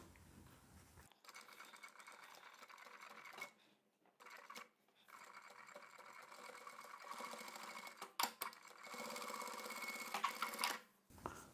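An industrial walking foot sewing machine, model 1903SX, stitches fabric in a steady rapid mechanical whir with brief pauses and restarts, close and fairly loud.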